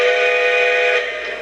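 A LionChief North Pole Central Pacific model train engine switching on, producing a steady electronic tone with clear harmonic pitches that holds for about a second and then fades.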